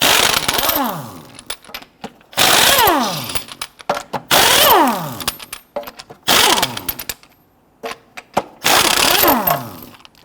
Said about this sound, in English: Using a 22mm socket, you gotta loosen and remove your lug nuts.